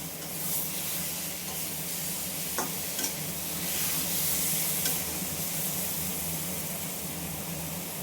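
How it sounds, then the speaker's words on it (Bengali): Egg curry masala sizzles and fries in a pan while being stirred, a continuous crackling hiss with a few soft scraping ticks throughout and no talk. "আবারও ভালো করে নেড়ে চেড়ে কষিয়ে কষা কষা হয়ে এসছে আমার"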